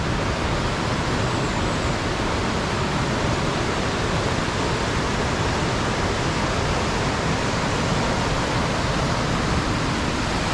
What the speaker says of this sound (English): that is quite the waterfall over there